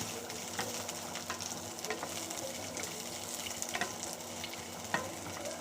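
Bitter gourd sautés in sesame oil for a tamarind kuzhambu, giving a soft, continuous sizzle dotted with light taps and crackles, faint and fairly distant.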